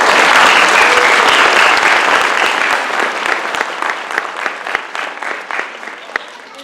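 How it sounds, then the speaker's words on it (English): An audience at a show claps together in loud, sustained applause that starts dense and slowly thins into scattered claps over several seconds. "So can we just get an applause for all of them?"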